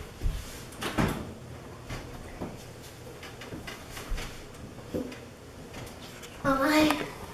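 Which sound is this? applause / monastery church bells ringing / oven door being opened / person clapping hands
oven door being opened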